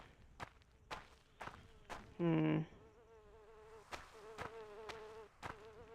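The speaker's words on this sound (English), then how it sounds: "Why am I hearing buzzing?" Insect buzzing in the video game Morrowind hums faintly in the background while soft footsteps tap at a regular pace, with one short loud tone bursting in midway.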